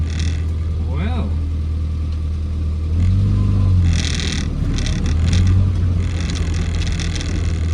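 A Morris Minor's engine runs low and steady while the car drives off just after a cold start, swelling briefly a couple of times, with voices talking over it.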